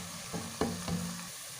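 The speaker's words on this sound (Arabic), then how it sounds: "هسيب البصله تدبل" Chopped onion frying in a pan, a soft sizzle with a few brief stirring scrapes, close and fairly quiet, no voices.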